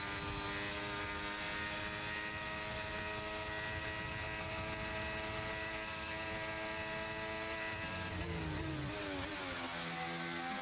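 A race car engine screams at full throttle through the Eau Rouge corners of Belgium's circuit in a racing game, a steady, loud, high-revving whine that drops and climbs again briefly near the end, with no talk.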